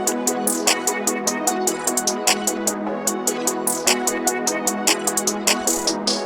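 Rapid hi-hat rolls in a trap beat ride over a steady, dense instrumental loop. Crisp, bright ticks repeat evenly and speed up in short bursts.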